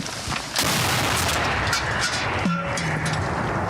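A loud artillery gun fires in combat, the blast erupting and rolling on with a sustained boom and rumble, followed by a brief mechanical whine fading under the noise.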